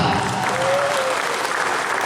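Continuous applause from a crowd at a school volleyball coaching clinic in a gym, cheering the boys' team; steady, dense clapping throughout with no break.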